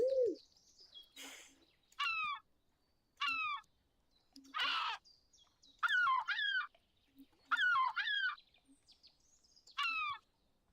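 Birdsong from the Wingspan board game's digital version: a series of bright, descending chirping calls and trills repeating at roughly one-second intervals, with a brief rasping noise midway, clear and close over near silence.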